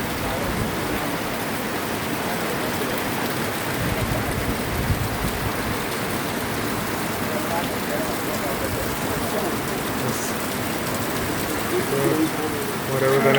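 Steady afternoon rain pours down in Elmina, Ghana, a dense even hiss throughout, with water running and faint birdsong in the background.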